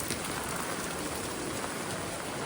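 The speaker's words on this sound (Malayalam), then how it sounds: "ശക്തമായ മഴയാണ് ഇവിടെ." Heavy monsoon rain pours down steadily along the Konkan Railway, a dense, continuous hiss of drops hitting surfaces close by, with strong wind and no voices.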